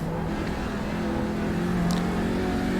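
A race car engine in a racing simulator game holds a steady high drone through a lap, a constant engine tone with no speech.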